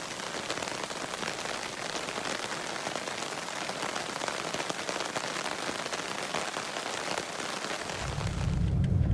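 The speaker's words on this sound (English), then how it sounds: "Well, the rain did come, so we spent a few minutes hanging out under the tarp." Rain pouring onto a tarp at a spring campsite at Tosohatchee in Florida, a dense continuous patter across the whole stretch, with a low rumble of thunder rising at the very end.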